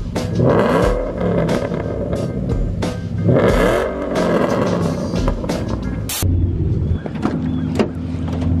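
A Mustang race car engine revs loudly and continuously on the street, with repeated swelling pulls and a steady mechanical drone throughout.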